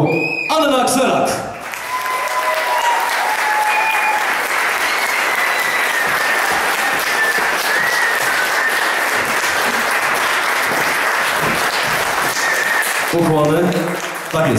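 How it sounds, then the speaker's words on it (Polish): A concert audience at a song festival claps loudly and steadily for the Grand Prix winner, a dense sustained wave of applause, with someone speaking briefly before it starts and again as it fades. "Państwa poproszę o podwójnie mocne brawa"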